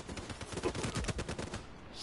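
Rapid automatic gunfire in the Black Ops 3 multiplayer game, a dense, fast burst of shots rattling for about two seconds before cutting off.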